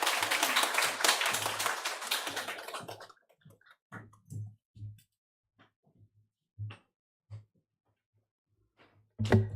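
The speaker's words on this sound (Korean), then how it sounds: "박수로 맞이해 주시기 바랍니다" Audience applause at a church gathering welcoming a missionary to the front, a dense clapping wash for about three seconds that fades into sparse scattered claps and a few footsteps-like knocks.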